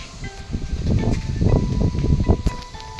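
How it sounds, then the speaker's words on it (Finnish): Strong wind blows outdoors as a steady low rumbling roar with gusty swells, loud and continuous throughout. "Täällä tuulee kovempaa kuin aikaisemmin aamulla."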